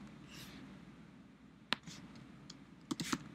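Faint, sparse clicks of computer keyboard keys being tapped, a few isolated strokes then a quick cluster near the end, in a quiet room.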